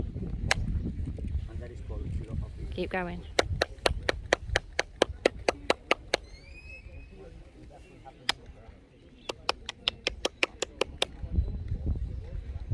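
Single sharp hand claps ring out in quick runs at the stone ruins of Chichen Itza, each answered by a bright chirping echo off the walls, with people talking softly between the bursts.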